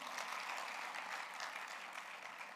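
An audience of young people at a literary festival breaks into thick, continuous applause, a steady wash of many hands clapping at once without pause for a few seconds.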